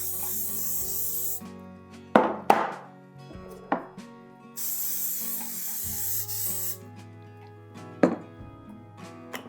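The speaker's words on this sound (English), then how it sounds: "Grab 2 loaf pans, because this recipe makes 2 loaves. And these are just 4x9s. Spray them down quick." Short hissing bursts of aerosol cooking spray on two 4x9 loaf pans, with sharp clanks of the metal pans being handled and set down between them, close and without talk.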